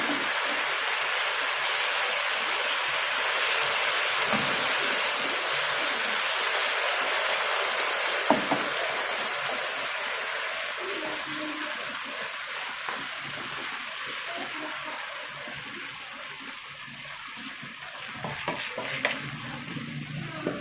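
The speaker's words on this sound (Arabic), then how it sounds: "اول ما اشم ريحتها على طول اطش الملوخيه" Molokhia hitting a hot pan of sizzling garlic and coriander (tasha), a loud, dense frying hiss right up close that holds steady and slowly eases off toward the end.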